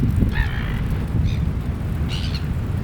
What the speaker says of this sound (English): Seagulls are circling.